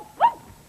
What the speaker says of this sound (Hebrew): אבל במבי הוא כלב חמוד מאוד